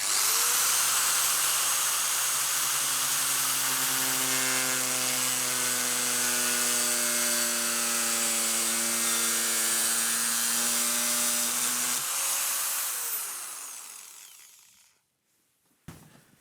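A power tool drills a hole through the body of a wooden hand plane, making a loud, sustained whining tone that holds steady and then winds down and stops near the end.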